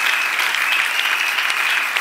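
A church congregation claps in a dense, steady burst of applause that fills the room, close and even throughout.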